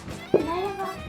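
A single short meow rises and trails off, close and fairly soft, over a faint background hum.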